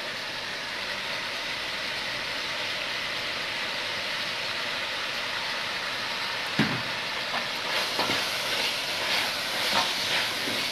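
Ground meat for bolognese sauce frying and caramelizing in a pan, a loud continuous hissing sizzle that runs throughout, with a few clinks and scrapes of utensils toward the end.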